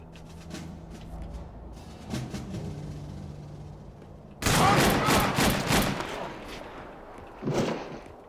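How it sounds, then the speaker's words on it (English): In a video game, scattered distant gunshots give way to a loud, rapid fusillade of bursts, followed by another short burst near the end. "Nothing to worry about. Just the usual gunfire."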